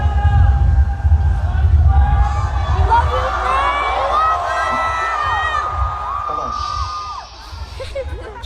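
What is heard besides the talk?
festival crowd cheering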